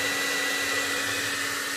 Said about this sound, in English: I'm gonna use one of these things. This is a blow dryer.